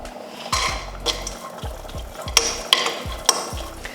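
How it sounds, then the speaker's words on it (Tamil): Cashews, raisins, almonds and pistachios fry in ghee in a pan, with a low sizzle beneath repeated sharp clinks and scrapes of a spoon stirring against the metal. "முந்திரி திராட்சை பாதாம் பிஸ்தாலாம் நல்லா நெய்யில் வறுத்தாச்சு"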